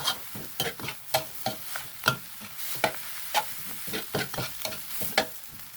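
Glass noodles with egg and vegetables are stir-fried in a pan. Close, rhythmic spatula scrapes and tosses repeat about twice a second over a soft sizzle, with no voices.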